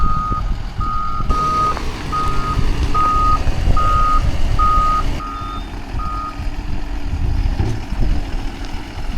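Reversing alarm on a big Doosan machine at an equipment auction: a steady series of evenly spaced, clear beeps over a low diesel engine idle, stopping near the end while the engine keeps running.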